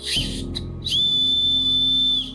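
A plastic whistle built into the end of a Harbor Freight survival kit knife handle gives two brief chirps, then one long, loud, steady shrill blast lasting over a second.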